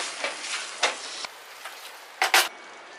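Grated paneer gets stirred into sizzling masala in a kadhai, a steady close crackle broken by several scraping stirs and a couple of louder sizzling bursts near the end.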